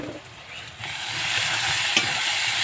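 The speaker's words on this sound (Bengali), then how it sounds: "এবার দেখো এটা ভেজে নিচ্ছি" Onion and garlic fry in a hot pan with a steady, close sizzle, and a brief stir scrapes through partway along.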